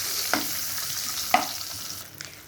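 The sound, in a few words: eggs frying in oil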